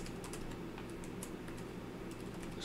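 Fast, steady typing on a computer keyboard, a quiet run of soft clicking keystrokes heard close without speech.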